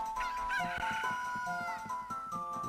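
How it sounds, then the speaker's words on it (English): A rooster crows over a busy soundtrack of music and effects in The Legend of Zelda: Ocarina of Time Master Quest, the call rising and stretching out clearly in the foreground. "Oh, I hear crowing."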